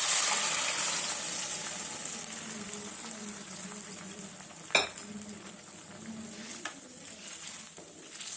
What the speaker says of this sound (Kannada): ನುಗ್ಗೆಕಾಯಿ ಹಾಕ್ತಾಯಿದ್ದೀನಿ. ಈ ಸಾರನ್ನ ಸೇರಿಸ್ತೀನಿ.